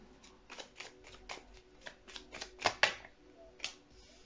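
Tarot cards being shuffled by hand, a series of soft, evenly spaced riffling flicks with a couple of sharper snaps near the middle, close but fairly quiet, with no speech.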